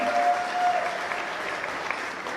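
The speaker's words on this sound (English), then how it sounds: "a huge round of applause once again for the bride's parents" Wedding reception guests applauding the bride's parents, a steady wash of many hands clapping at moderate volume, with a brief tonal note near the start.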